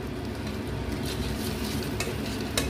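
Masala with Kashmiri chili powder sizzles steadily in hot oil for a pomfret curry, a dense continuous frying hiss with occasional soft scrapes of a spatula, loud and close, with no voices.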